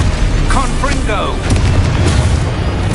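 A booming Confringo spell blast from the game Hogwarts Legacy, with loud, dense roaring bursts layered under a spoken spell incantation and continuous game sound.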